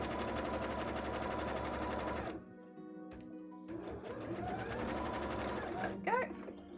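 A sewing machine stitching a cosplay petticoat, running steadily and close for a couple of seconds, then stopping; afterward a voice speaks briefly over quieter handling noises.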